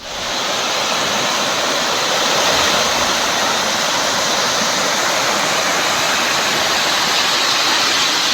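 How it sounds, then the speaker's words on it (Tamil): Rushing stream water swollen by heavy rain in Tamil Nadu flows loudly and continuously, a dense steady roar with no voices. "கனமழை பெய்ததால் ஓடைகளில் நீர்வரத்து அதிகரித்துள்ளது"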